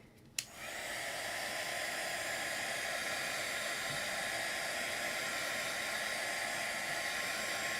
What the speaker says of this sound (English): I am going to hit this with the heat gun real quick